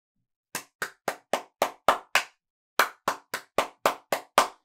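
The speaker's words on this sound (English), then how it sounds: "All you have to do is clap back immediately my pattern" A single person claps a rhythm pattern at a singing workshop: seven sharp, close claps in a steady run, a brief pause, then seven more, crisp and isolated against silence.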